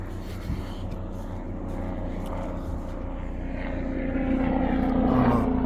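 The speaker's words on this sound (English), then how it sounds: "Helicopter, I don't know why." A helicopter drones overhead above the Surrey Hills countryside, a steady low engine throb that grows gradually louder as it approaches.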